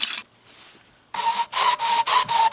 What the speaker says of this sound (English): I guess I'm going to have to try and keep filing that down.